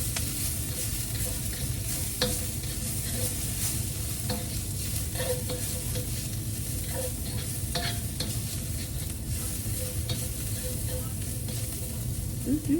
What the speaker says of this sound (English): add in your 3 chopped garlic cloves